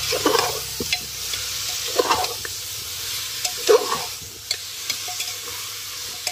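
Chicken masala stirred in a pan over a wood fire after coriander is added, with repeated scraping stirs punctuating a steady close sizzle of frying, no talking, village-style outdoor cooking.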